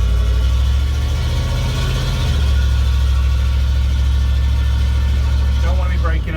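Camper van engine running while driving, a steady loud low drone with a shift in pitch partway through, close and continuous.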